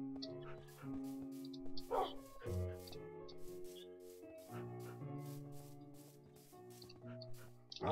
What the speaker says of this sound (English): Loads of dogs.